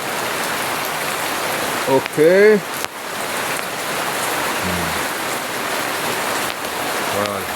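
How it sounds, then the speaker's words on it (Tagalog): Heavy rain pours steadily and loudly, a dense hiss throughout, with a brief voice and a short whistle-like sound partway through. "lakas ng ulan."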